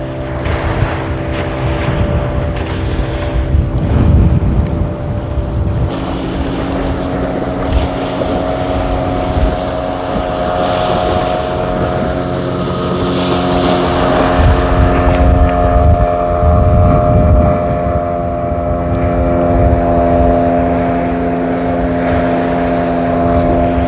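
Fishing boat motoring back toward shore from sea at Point Pedro, Jaffna, with a steady droning engine hum, heavy wind buffeting the microphone and wash of waves throughout, loud and continuous.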